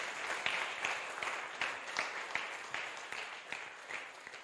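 A church congregation gathered for a fasting and prayer weekend applauds and cheers, steady clapping from many hands filling the room for several seconds at moderate distance.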